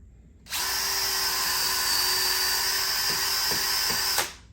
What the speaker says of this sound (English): So I'm just going to drill through here.